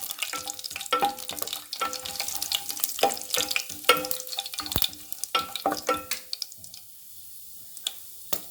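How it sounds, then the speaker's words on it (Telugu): Garam masala fries in hot oil for a Telugu-style chicken curry. A close, crackling sizzle comes with scattered spoon clicks and stirring scrapes, and it dies down toward the end. Nobody talks over it. "ఆయిల్ హీట్ అయ్యాక మన గరం మసాలా, ఒక సెకండ్ వేగనిద్దాము."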